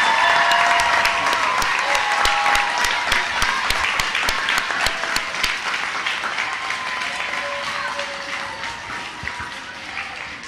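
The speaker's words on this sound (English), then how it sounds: "let's give them a big round of applause" Applause from an audience at a STEM morning event, a dense broadband clatter of many hands that carries steadily for about ten seconds, with faint voices and a few tonal sounds threaded through it.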